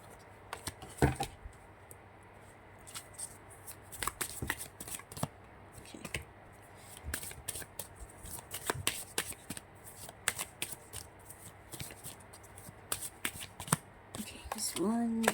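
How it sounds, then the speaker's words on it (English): Cards being shuffled repeatedly, with crisp riffling bursts and soft taps at close range, continuing at a steady pace over faint background. "Wait, I need to shuffle this properly."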